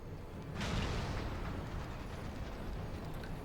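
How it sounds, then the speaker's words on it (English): Heavy cannon fire from a warship under attack in a Final Fantasy XIV cutscene, a dense rumbling barrage of booms that starts with a sharp burst and rolls on steadily, loud and close, without speech. "All cannons return fire."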